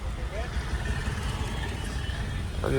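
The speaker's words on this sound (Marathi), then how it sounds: "मुंबईमध्ये आलो आणि ट्रॅफिक भेटणार नाही असं कधी होणारच नाही" Mumbai street traffic with cars idling: a steady low engine rumble that holds throughout and swells slightly near the end, with faint background voices.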